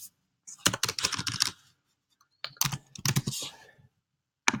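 Fingers type on a computer keyboard in two quick bursts of close, crisp key clicks separated by a pause, with one more click at the end in an otherwise quiet room.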